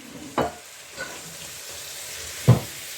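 Peppers and onions fry in a pan with a steady, close sizzle, broken by two sharp utensil clanks against the pan near the start and end.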